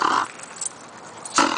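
A small bulldog plays with a ball, giving short growly bursts at the start and again near the end, with quieter pauses between and no talk.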